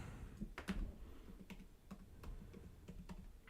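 Rapid typing on a computer keyboard, a steady patter of light clicks close by and fairly quiet, with no talking.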